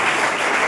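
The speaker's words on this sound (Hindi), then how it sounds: "तालियां बजाएं इसके लिए" Audience clapping throughout a quiz game show event, a dense steady wash of applause at even loudness with no talk over it.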